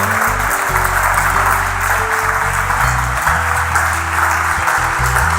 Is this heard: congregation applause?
yes